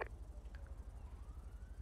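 A police siren in a video game rises and wails faintly in the background over a low rumbling engine drone, with no voices.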